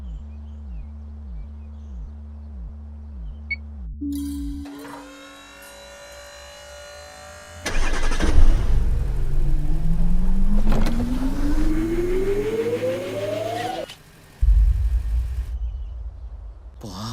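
A hacked self-driving car with an autopilot feature starts up and drives off as a movie sound effect: rhythmic mechanical pulsing, then a whirring start and a loud engine surge carrying a rising electric whine, with no speech.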